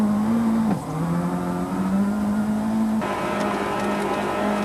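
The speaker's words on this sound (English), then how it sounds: "During the spin, snow got into McRae's air intake. The engine splutters." McRae's rally car engine runs in the snow of Sweden at the 2003 WRC, its note dipping and faltering as snow chokes the air intake, then picking back up.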